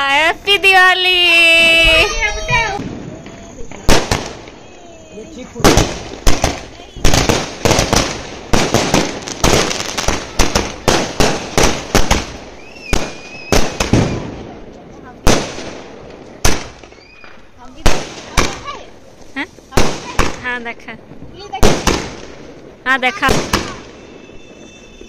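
Diwali firecrackers and fireworks go off in a rapid series of sharp loud bangs and pops, some overlapping, with a baby crying at the start and people talking between blasts.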